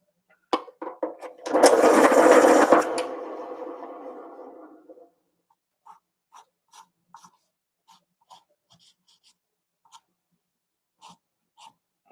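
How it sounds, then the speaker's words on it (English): A sharpener grinds in a loud, close burst lasting about a second, then trails off into a fading whir; scattered soft clicks and taps follow in near silence. "Let me sharpen this."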